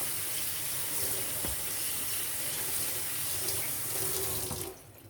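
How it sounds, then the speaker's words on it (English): Tap water runs steadily over canned chickpeas in a colander in a kitchen sink, a constant close splashing rush that cuts off abruptly near the end. "I'm going to drain and rinse them to get whatever might be on them."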